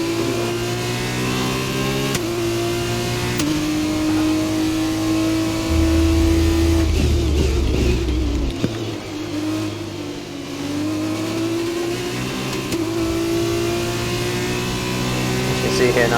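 A damaged F2 race car engine in the F1 2021 racing game drones and revs continuously, its pitch rising with upshifts and dipping briefly, loud and close throughout.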